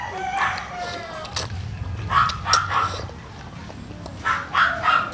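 A dog barks in two short bursts of a few barks each while chasing a chicken, with a rooster crowing early on and voices nearby.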